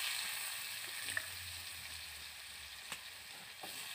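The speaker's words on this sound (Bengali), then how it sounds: "আর দিয়ে দেব ওই তেলের মধ্যে কেটে রাখা আলুগুলোকে।" Cut potatoes fry in hot oil in a wok with a faint, even sizzle, broken by a few brief soft taps and scrapes.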